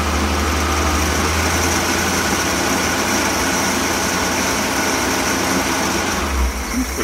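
The engine of a 1965 Ford cabover truck runs with the choke off and is held at raised RPM, giving a steady, close, unbroken drone that eases slightly near the end.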